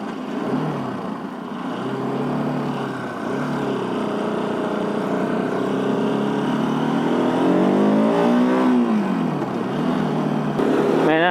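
A Bajaj Pulsar RS 200 motorcycle labours up a steep hill, its engine droning steadily and then rising in pitch as it revs harder, loud and close throughout with no talking.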